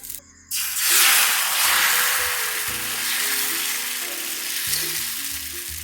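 Thin dosa batter poured on a hot iron dosa griddle gives a sudden, loud, steady sizzle and hiss that holds throughout, with low background hum beneath.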